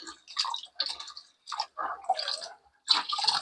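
Laundry being rinsed by hand in a tub of water during household cleaning: repeated splashy, squishing bursts of wet cloth sloshing, coming in short irregular spurts with brief pauses, close and moderately loud.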